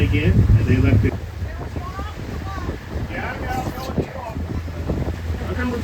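Wind rushes over a boat on a Pelican Island cruise off Sebastian, Florida, a steady loud buffeting of the microphone with engine and water noise beneath, while people talk throughout.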